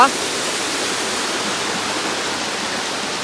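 Steady, full broadband rush of a waterfall in the Kodaikanal forest, heard from up at the top of the falls, constant and fairly loud with no break across the clip.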